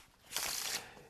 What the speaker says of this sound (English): you're explaining this little opening gambit while they are shuffling the cards